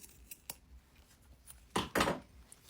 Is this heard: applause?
no